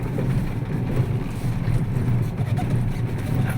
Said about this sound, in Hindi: हमारे आगे आगे गाड़ी आ रही है